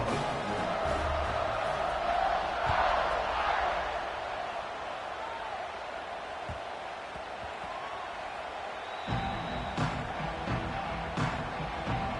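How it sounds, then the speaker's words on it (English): A Texas A&M college football stadium crowd roars continuously at kickoff, a broad, steady wall of cheering under commentary. "this crowd now ready to get behind them"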